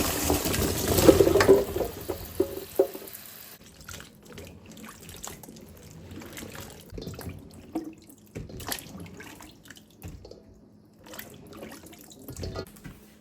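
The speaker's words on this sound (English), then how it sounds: "The first step in making green tomato mince is wash my tomatoes." Green tomatoes get washed under a running kitchen tap in a sink: a brief gush of water at the start, then scattered splashes, drips and handling clatter, close and fairly quiet, with no talk.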